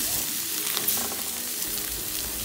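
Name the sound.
oxtail frying in butter in a pot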